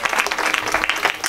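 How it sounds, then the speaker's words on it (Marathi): Audience at a Marathi devotional discourse claps together, a short burst of dense, bright hand claps with uneven bumps in loudness throughout. "असे वाजवा जरा टाळ्या वाजवा"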